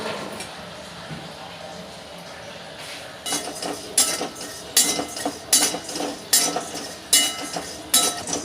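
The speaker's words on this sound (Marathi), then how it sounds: "आता मी याच्यामध्ये लवंग घेतलं आहे आणि लवंगला पण आपल्याला चांगलं भाजून घ्यायचं आहे" Whole cloves dry-roasted in a pan for Malvani masala, a quiet stretch followed by a run of repeated metallic clinks and scraping strokes of a utensil against the pan, close and rhythmic.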